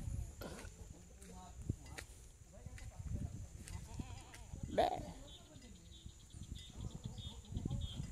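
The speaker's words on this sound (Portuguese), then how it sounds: "Bode, é bode mesmo." Goats bleat on a farm among livestock, several uneven calls scattered through a noisy outdoor scene, one louder and nearer midway, with people talking and birds faintly in the background.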